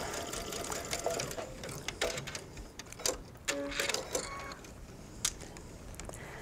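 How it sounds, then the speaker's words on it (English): A sewing machine stitching around a pocket corner with contrasting thread, running in short quiet bursts of rapid mechanical chatter separated by pauses and faint handling clicks. "Let's go ahead and stitch that first corner."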